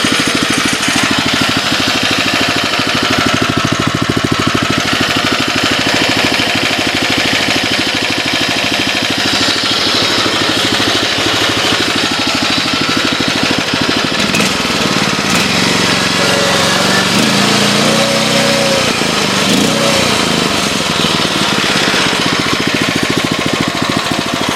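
A 1977 Sears/Roper 18/6 garden tractor engine runs steadily and loudly throughout, a continuous close mechanical drone with a rough, rattling texture and no break in the sound.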